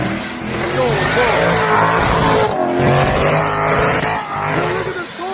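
A Corvette spins donuts, its engine revving hard in rising and falling sweeps while the tyres screech and skid, loud and close, with voices of onlookers mixed in.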